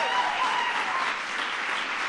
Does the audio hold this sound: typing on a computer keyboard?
no